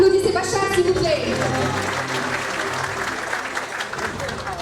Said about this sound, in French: Applaudissez Bachar s'il vous plaît